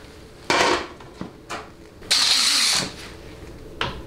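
Hand tool working a 10 mm bolt on the speed sensor of a 700R4 automatic transmission during teardown, with a few separate metallic rasps and clicks of uneven length and spacing, close by, with no talk.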